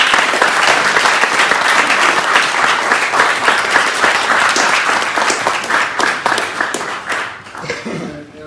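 A book launch audience applauds steadily for several seconds, dense clapping that holds level then thins and fades near the end.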